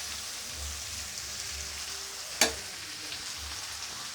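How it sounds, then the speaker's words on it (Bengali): A spiced bean, radish and potato curry sizzles steadily in a pan as it is stirred from the bottom up, with one sharp knock of the spoon against the pan midway and no talk. "এইভাবে নাড়াচ্ছি, একদম নিচে থেকে ওপরে তুলতে হবে।"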